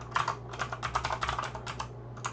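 Close, quick typing on a computer keyboard, a rapid run of light plastic key clicks over a faint steady hum, with no talking.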